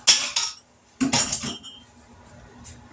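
Home-canned green beans with their juice dumped from a jar into a cooking pot in a home kitchen: two loud clattering bursts of metal and glass contact, then quieter clinks, with no talking.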